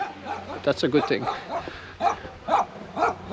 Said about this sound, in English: That's not one. That's a normal dog.